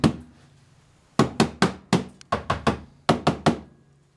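A hammer strikes metal repeatedly during the teardown of a 1973 Volkswagen Beetle, coming as close, sharp blows in quick clusters of two to four with short pauses between them.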